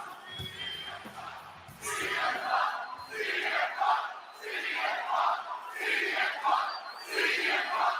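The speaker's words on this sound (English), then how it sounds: "Hear that crowd." Wrestling arena crowd at WWE Monday Night Raw in Tulsa, Oklahoma, roaring and cheering in repeated loud surges, with a commentator talking over it.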